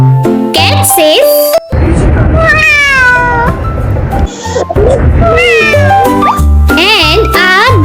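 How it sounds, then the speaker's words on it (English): A cat meows several times, drawn-out, rising and falling cries, loud and close, with brief music or voice bits before and after. "this is a cat. Cat says,"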